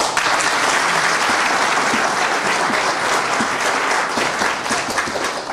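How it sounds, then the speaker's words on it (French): Sustained applause from an audience at a political rally, a dense steady clatter of many hands, loud and close, holding evenly throughout without a break. "Je demande qu'on les applaudisse"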